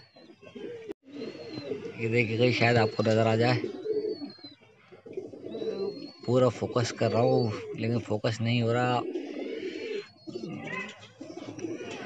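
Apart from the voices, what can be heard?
pigeons cooing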